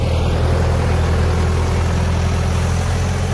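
A Ford 5600 tractor doing dirt work and digging, its diesel engine running at a steady, loud drone with a deep rhythmic throb and no talking.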